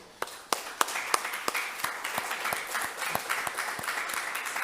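Colleagues at an innovation and networking day applaud, starting with a few distinct sharp claps that quickly build into steady, moderately loud clapping from a roomful of people.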